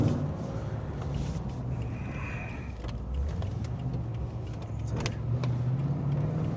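A motorcycle engine fitted with a Chopper Reid camshaft and CNC heads pulls at full throttle from low revs, a steady loud droning rumble that rises slightly in pitch as it accelerates.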